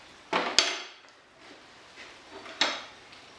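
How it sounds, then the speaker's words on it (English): Mallet bumps on a clamped board on a DIY workbench, two sharp knocks close together, a quieter tap, and another knock a couple of seconds later. "I'm going to take a mallet and just bump it over a little bit"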